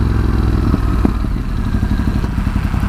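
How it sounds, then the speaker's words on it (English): A 2019 Ducati Scrambler 1100 rumbling loud and close on the overrun, its exhaust crackling with rapid irregular pops under the engine's throb. "I love the way this exhaust pops when you change down and come off the throttle"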